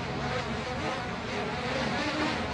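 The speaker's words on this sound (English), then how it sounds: "So the drone is it's coming in for a landing." A drone buzzing as it comes in to land, a steady, close, insect-like whine of spinning rotors holding at an even level without speech.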